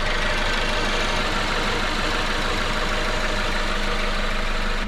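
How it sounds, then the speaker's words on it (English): A car engine idles steadily just after an oil change and a Valvoline Restore & Protect treatment, giving a loud, even, continuous rumble with no talking. "Listen to that engine purr."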